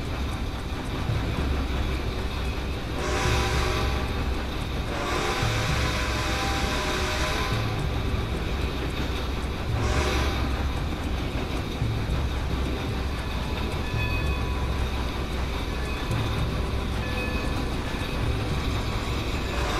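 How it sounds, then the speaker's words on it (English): A train driven in the video game Red Dead Redemption 2 gives a steady, continuous rumble of rolling wagons throughout, with a few brief swells of louder clatter early on and no voices. "I'm driving the train."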